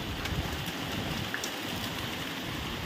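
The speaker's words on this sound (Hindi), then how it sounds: "अभी अभी बारिश भी चालू हो गया" Steady rainfall at a home in India, a soft, even hiss with scattered drop patters, faint and continuous throughout.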